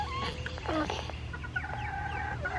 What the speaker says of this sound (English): let's go check on the chickens this morning